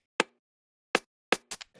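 A programmed percussion loop built from tape-processed samples with added sine tones: sharp broadband hits spaced apart, ending in a quicker cluster of softer shaker-like ticks, with no talking.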